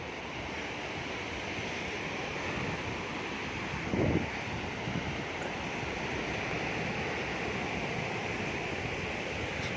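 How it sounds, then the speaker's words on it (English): Calangute Beach in Goa at night during a blackout, with a constant wash of waves and wind across the sand, one louder gust or surge swelling briefly midway, and no talking. "Strolling on the beach in the blackout."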